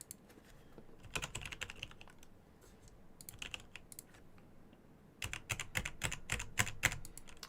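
Bursts of rapid clicking keystrokes on a computer keyboard, close and fairly quiet, in two busy runs separated by a lighter patch of scattered taps, with no talking.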